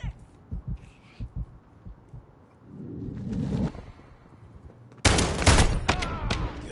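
Gunfire in a shooter video game with weapons such as the FSS Hurricane and Expedite 12: scattered muffled thumps and a rising rush give way to a loud, dense burst of close shots near the end.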